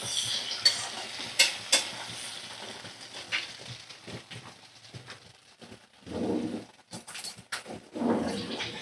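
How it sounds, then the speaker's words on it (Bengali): Winter beans fry in a pan while being stirred, soft sizzling with scattered scraping strokes and a few sharp knocks of the spatula, quiet and close with brief pauses. "আর একটু নাড়াচাড়া করে নেব, আর একটু ভাজা ভাজা হয়ে যাবে"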